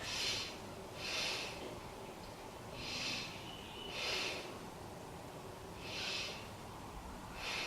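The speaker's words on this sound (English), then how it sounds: "Take 3 breaths here." Deep, slow breaths taken while holding a yoga pose, each one a soft airy rush that comes roughly every second or two at a steady rhythm, close and fairly quiet, with no talking.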